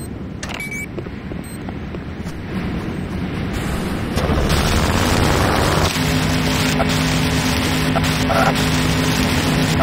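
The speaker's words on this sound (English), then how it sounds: "C4 is set. C4 is set. Fire in the hole!" C4 explosive detonating in the video game Renegade, a loud rumbling blast that swells mid-clip and lingers as a sustained roar under steady game ambience, with no talk.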